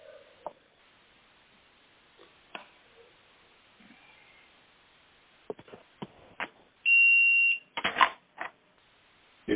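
An Alarm Lock PG30 Pilfergard door alarm gives one loud, sustained electronic beep near the end, amid scattered handling clicks and knocks from someone working on the unit, with quiet stretches between.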